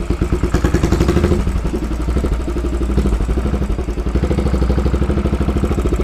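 A Royal Enfield Bobber motorcycle thumps along at low RPM, its engine pulsing in a steady, even beat with a mechanical clatter, heard close and alone.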